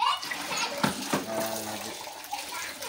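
Water is poured and stirred into Holi colour powder in a container during an outdoor family Holi celebration, a sloshing, splashing wash of water with children's and adults' voices talking over it.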